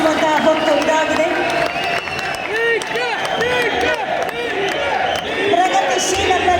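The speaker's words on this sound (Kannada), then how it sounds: "ನಿಮಗೆ ಭರಪೂರ ಚಪ್ಪಾಳೆಗಳ ಮುಖೇನ ಅಭಿನಂದನೆಯನ್ನು ಸಲ್ಲಿಸುವಂತಹ ಹೊತ್ತು ಇದಾಗಿದೆ" A large audience at a Karnataka government employees' association honouring event claps and cheers for Chief Minister D.K. Shivakumar, producing a dense, sustained roar of applause with crowd voices, loud and continuous throughout.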